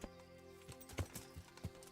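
Horse hooves clip-clop in the video game Kingdom Come: Deliverance, a few quiet, uneven thuds spread over a soft background bed with no talking.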